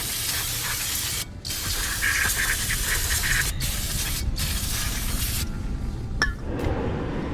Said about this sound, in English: now I'm gonna spray everything down.